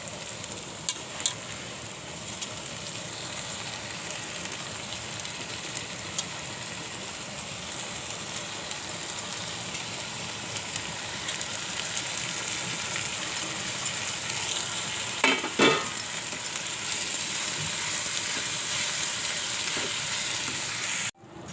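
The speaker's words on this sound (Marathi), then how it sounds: "आता मी त्यामध्ये मेथीची भाजी घालून घेते." Fenugreek leaves fry with softened onion in a pan, giving a continuous, even sizzle that holds for the whole stretch. A brief scraping rustle comes near the middle.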